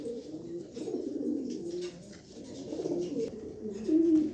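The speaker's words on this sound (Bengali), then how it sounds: "হ্যাঁ, খুবই সুন্দর এক পেয়ার কবুতর" A pair of white racer pigeons coo close by in repeated low, throaty rolling phrases, with a slightly louder burst near the end and no talk.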